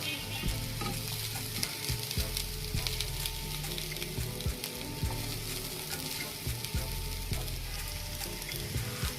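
Rice sizzles and crackles in a hot pan for pea pilaf (matar polao) while a utensil repeatedly scrapes and stirs it, close up and steady, with no talking.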